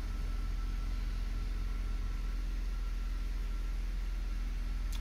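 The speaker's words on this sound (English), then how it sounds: "Engine runs silky smooth." 2004 BMW 325ci convertible engine idling, a faint, steady low hum with an even mechanical pulse, unchanging throughout and heard alone.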